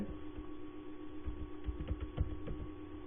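Computer keyboard typing during a Microsoft Word lesson: a quiet, uneven run of soft key clicks over a steady electrical hum, with no voice.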